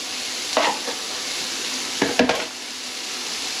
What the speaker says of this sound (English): What our ingredients will consist of is half of an onion. We're going to saute.